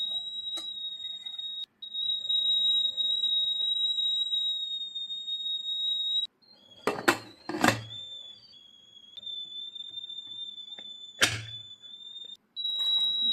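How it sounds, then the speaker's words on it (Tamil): A pressure cooker whistles in long, shrill, steady tones with brief pauses, interrupted midway by a few loud clattering bursts. "குக்கரை மூடி போட்டு ஒரு 3 விசில் விட்டுருங்க."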